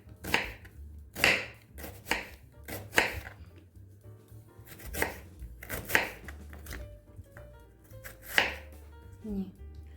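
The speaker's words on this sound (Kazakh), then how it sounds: "Жуамызды ортасынан бөліп," Knife chopping onion on a cutting board for a green tomato salad, heard as close, crisp irregular bursts of thuds and slicing, loud and alone with no voices.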